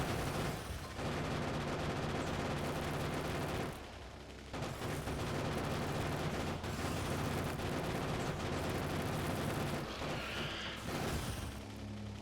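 Turrets fire on an enemy wave in Factorio, giving a dense, continuous rattle of rapid gunfire with brief pauses and impacts, loud and unbroken by talk.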